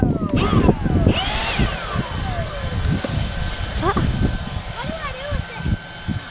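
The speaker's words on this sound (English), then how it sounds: "leaf blower" A leaf blower motor whines with shifting pitch while blowing leaves outdoors, running near and steady while people talk over it.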